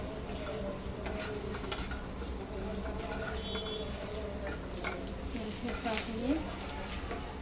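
Dhaba-style egg masala fries in a pan with a steady soft sizzle while a spoon stirs and scrapes through it, close and continuous, with a voice speaking faintly over it.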